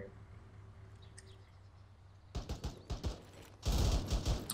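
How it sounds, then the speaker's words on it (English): Gunfire in ArmA 3 opens after a quiet, low hum: a few separate cracks, then a heavier sustained burst near the end, fairly close and loud. "we're getting shot at"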